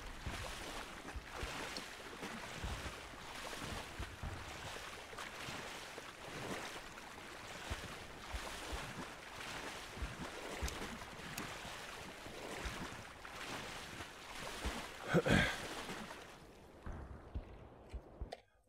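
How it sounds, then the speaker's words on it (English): Loud, sloshing water and swimming sounds from the Black Mesa video game near a big dam, a steady wash of splashing and surf-like noise for most of the stretch, with one sharper splash near the end before it fades out. "Loud sloshy water noises."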